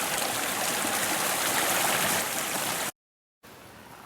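A mountain stream at about 10,000 feet in the Colorado forest rushes steadily and loudly, a dense continuous wash of water that cuts out briefly to silence before resuming slightly softer.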